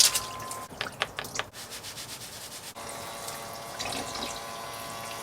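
Hair being washed with water in a portable bathtub bucket inside a converted cargo trailer camper: close, uneven splashing and rubbing at first, then a steady pouring, running water flow to the end.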